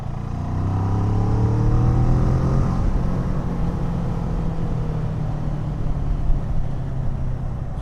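A Kawasaki ER6N motorcycle engine drones loudly while riding, its pitch climbing through a gear early before settling into a steady, rumbling cruise with heavy wind noise and no talk.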